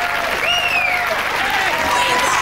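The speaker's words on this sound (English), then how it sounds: "they're rightfully getting the applause there" A crowd applauds two worn-out fighters at the final bell of a celebrity charity boxing bout at Sport Relief 2002, with steady loud clapping and rising whistles over it.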